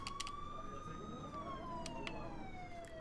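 A siren in the video game Trailmakers wails with a slowly falling pitch, faint and steady, with brief clicks and rustles over a low background hum.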